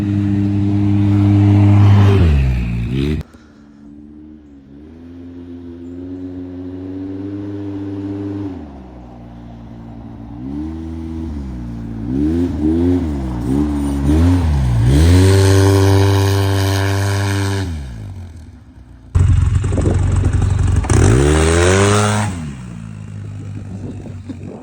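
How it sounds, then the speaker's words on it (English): A Polaris RZR side-by-side engine revs hard and loud, pitch climbing and falling in repeated surges while sliding, with a sudden cutoff to a lower idle and another loud burst near the end. "he's ripping the RZR"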